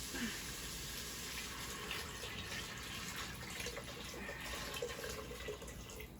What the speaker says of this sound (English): we're gonna stir in our 5 cups of water